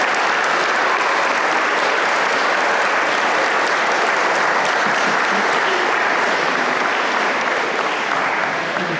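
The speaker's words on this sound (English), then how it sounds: "So let's give a big round of applause for Mr. Tate." An audience at a 2024 Veterans Day program gives a big round of applause, loud, close and unbroken clapping from many people that fills the whole nine seconds.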